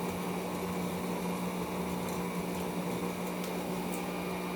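Electric mixer whirring steadily through thick vegan lemon pound cake batter, a continuous close motor drone with no talking.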